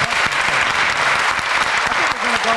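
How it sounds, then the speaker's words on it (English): Loud, dense audience applause at a civic gathering, continuous clapping from a large crowd at close range, with faint voices mixed in beneath it. "nice round of applause for all these people"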